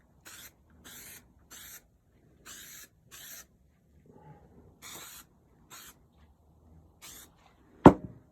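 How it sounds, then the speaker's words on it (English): Short bursts of 3M High Strength 90 spray adhesive hiss from an aerosol can, about eight separate sprays in an uneven rhythm at close range, followed by a sharp single knock near the end. "And we spray them both with glue."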